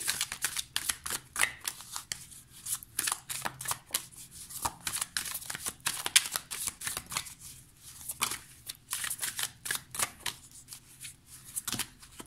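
A deck of tarot cards is shuffled near the mic in a long, almost continuous run of rapid papery flicks and slaps, each one brief and sharp, with no one speaking.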